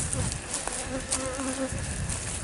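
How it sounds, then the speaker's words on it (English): A bee hovers close by in a Central Florida fruit tree garden, giving a continuous mid-pitched buzz that wavers in pitch over steady outdoor background noise. "I'm backing up because of this bee."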